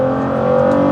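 Steady, loud engine drone from a Nissan GT-R V6 accelerating, a constant strong tone held for under a second with no talk.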